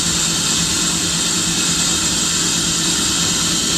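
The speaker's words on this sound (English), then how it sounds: "Nice little idle, let it run for a little bit." The engine of a Kitt replica car idles in a steady, continuous drone with a whiny, airy hiss on top, loud and close, with no pauses or talking.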